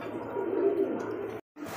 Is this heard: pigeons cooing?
yes